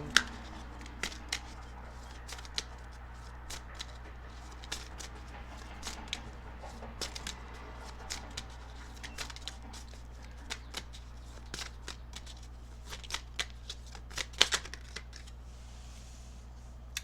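A deck of tarot cards is shuffled softly and close by, with light repeated riffling clicks and taps over a quiet low hum, no talking.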